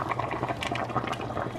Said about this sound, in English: So here are the soup beans now that they're boiling really good.